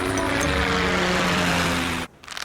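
Cartoon helicopter flying, a loud dense rotor and engine drone running steadily for about two seconds before cutting off abruptly.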